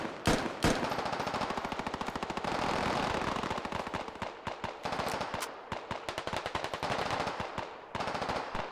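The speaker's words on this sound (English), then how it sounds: "More shots coming out here from Cody." Rapid automatic gunfire from a Squad Ops military shooter game, with a steady stream of loud close bursts and single shots that continue almost without pause and no talking.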